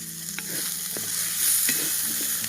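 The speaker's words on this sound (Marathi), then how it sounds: "एक दोन मिनटं चांगलंसं परतून घ्यायचं" Dried bombil fish masala being stirred and fried in a pan on a village wood-fired stove, with a steady sizzle under repeated scraping spoon strokes, close and moderately loud, no voices.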